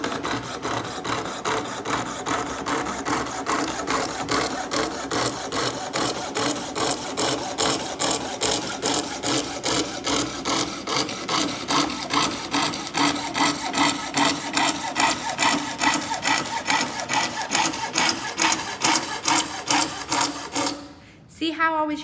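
A coping saw cuts a circle in wood with steady back-and-forth strokes, a loud, close rasping rhythm sustained for about twenty seconds before a brief pause and a final stroke.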